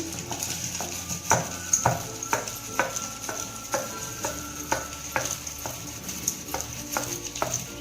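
Peanut chutney pounded with garlic in a small stone mortar, a regular run of sharp thuds and grinding scrapes about twice per second over a faint background hiss, close and steady with no talking.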